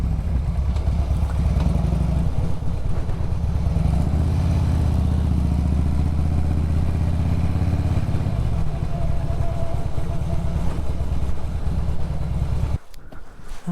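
A motorcycle rides through the Burren in Ireland, its steady low engine drone loud and close for about twelve seconds under wind buffeting the microphone, then cutting off abruptly near the end.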